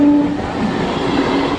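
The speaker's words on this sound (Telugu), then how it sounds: "దానికే ట్రైన్ అంటారు" A passenger train rolls past at Tirupati, a loud, steady rumble and wheel clatter with a brief horn-like tone at the start, filling the short stretch without any voices.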